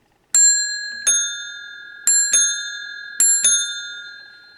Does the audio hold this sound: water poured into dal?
no